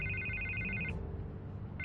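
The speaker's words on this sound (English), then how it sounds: "I can't get the phone to stop ringing." A telephone rings in Batman: The Telltale Series, two bright electronic ring bursts separated by a short gap, loud and close over a low steady background hum with no talking.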